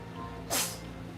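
A single sharp, breathy sneeze bursts out close by, a brief hissing blast standing out from a quiet background.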